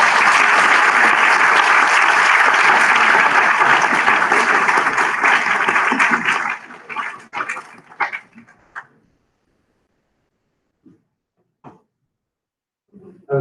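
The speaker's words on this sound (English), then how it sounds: "Please join me in a warm Barrow welcome to our Barrow buddy, Andrew." Loud, close audience applause at a fifth-grade school moving-on ceremony, a dense burst of clapping that thins out after about six seconds into a few scattered claps, then near silence with occasional isolated claps.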